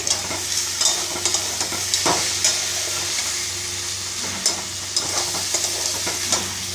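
Banana blossom being sautéed in a pan makes a continuous crackling sizzle, broken by repeated spatula scrapes and knocks against the metal at an uneven rhythm, close and fairly loud with no voices.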